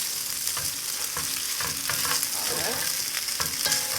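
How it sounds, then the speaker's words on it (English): Mushrooms stirred in sizzling butter in a pot, with a steady loud fry and rhythmic scrapes and clacks of the spoon close up, no voices. "Mix that around in the butter."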